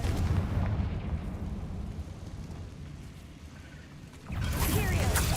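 A Confringo spell explodes in the Hogwarts Legacy video game, a dense booming blast that rumbles and fades, then a second loud burst near the end.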